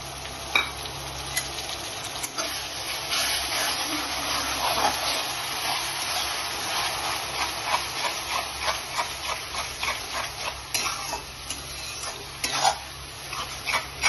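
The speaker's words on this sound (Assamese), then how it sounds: "ৰঙচুৱাকৈ ভাজি হৈ গৈছে, এতিয়া মই বিলাহীখিনি দি দিম।" Tomatoes tipped into hot oil over onions fried golden in a pan for Kashmiri aloo dum, sizzling and crackling steadily, with repeated scraping stir strokes.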